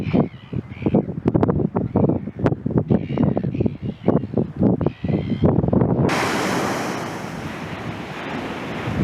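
Strong wind buffets the microphone in gusty, rumbling bursts, then settles into a steady roaring rush like surf.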